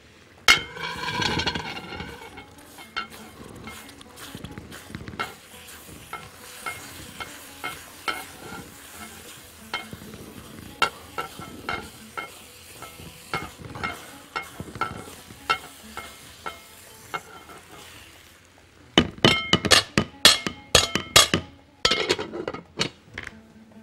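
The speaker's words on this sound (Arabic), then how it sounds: "نقلب الرز بتاعنا." Rice being stirred in a pan with a utensil, scraping and clinking in an irregular rhythm over a soft sizzle, with a louder burst of knocks near the end; no voices.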